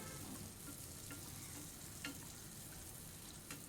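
Chalividi pongadalu batter frying in oil in a pan, a soft continuous sizzle with a few faint clicks, quiet and steady with no voices.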